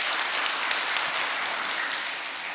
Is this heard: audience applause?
yes